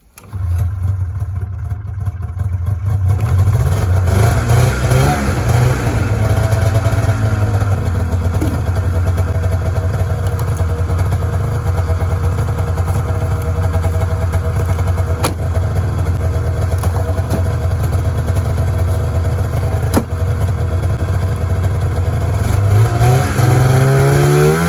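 A 1994 Polaris Indy 440 snowmobile engine idles steadily and loudly close by, a continuous two-stroke drone that holds for nearly the whole stretch after a brief quieter start.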